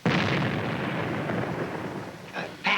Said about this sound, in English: if the explosion failed to disturb him, I don't see how we could